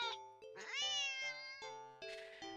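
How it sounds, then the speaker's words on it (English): A cat meowing in the video game Do NOT take this cat home, a series of about six clear, close meows of rising and falling pitch with short pauses between them. "the cat meows sharply at you and dashes off around the corner into the hall"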